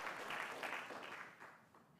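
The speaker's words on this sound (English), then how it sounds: "big round of applause for them anyways." Applause from an audience at a college of natural resources global engagement awards celebration, a steady wash of clapping that slowly fades toward the end.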